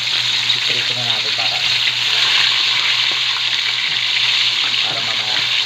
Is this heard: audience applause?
no